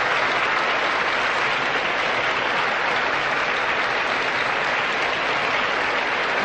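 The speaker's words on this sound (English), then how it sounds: "I think your cheering section rivals Mexico's." A large pageant audience at Miss Universe 1988 breaks into dense, sustained applause with cheering, loud and steady throughout without letting up.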